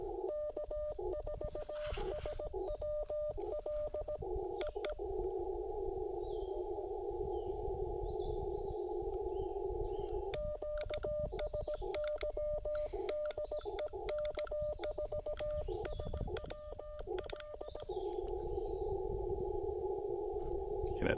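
On the 40-meter amateur band, a Morse code signal calling for a QSY sounds as steady keyed tones over constant radio hiss and noise. The beeps come in runs of on-off pulses, are clear and moderately loud, and no one talks over them.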